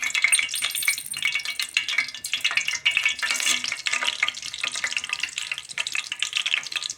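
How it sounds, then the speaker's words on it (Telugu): Tempering spices crackle and sizzle in hot oil for a gongura pickle, a dense, steady frying hiss with stirring scrapes and small pops throughout, close and fairly loud. "ఆయిల్ వీటేసిన తర్వాత ఒక స్పూను పోపు వేసుకుందాం"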